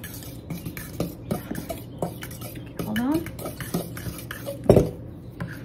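A spoon scrapes and knocks around a mixing bowl as sugar cookie dough is stirred in a home kitchen, with irregular clinks and one sharper clatter, while a voice and other talk are heard over it.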